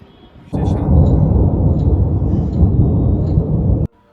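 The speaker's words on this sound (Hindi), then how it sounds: "बिजली भी जोरदार कड़क रही है" Loud thunder from a storm near Kedarnath, heard as a heavy, sustained roar and rumble lasting over three seconds and then cutting off abruptly.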